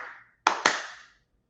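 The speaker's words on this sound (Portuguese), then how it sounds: "uma palma, um espaço longo e 2 palmas, assim." Hand claps in a pattern: the fading tail of a single clap, a long pause, then two sharp, close claps in quick succession, each ringing briefly in a quiet room.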